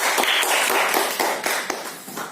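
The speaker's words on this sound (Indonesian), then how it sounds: "tepuk tangan untuk kelompok" A classroom group of primary-school students and their teacher clap for a student group after a science experiment report, a dense patter of hand claps with sharp individual slaps standing out, moderately loud and close.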